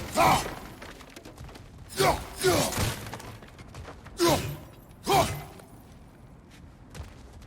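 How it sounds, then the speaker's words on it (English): Objects being smashed in God of War Ragnarök: four heavy shattering crashes at uneven intervals, each a loud burst of splintering debris fading into a faint rumble, with occasional voices in between. "back to smashing through things for fun and profit"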